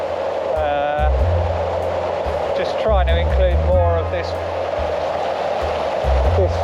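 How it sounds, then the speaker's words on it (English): Jagala waterfall in Estonia in winter sends a steady broadband rush of flowing water across the scene, continuous and fairly loud beneath someone speaking nearby. "flowing water over this foreground area here, and then with it winding back to the falls over the top here"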